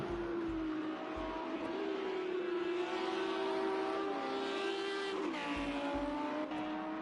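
Race cars lap Sonoma Raceway, engines droning steadily with pitch drops and rises as cars brake and accelerate, a sharp shift near the end suggesting a gear change or pass, with no one speaking.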